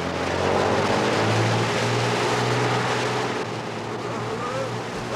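A boat's engine rumbles steadily at sea as its revs are raised, the low drone climbing slightly in pitch, with water and wind noise around and no talking.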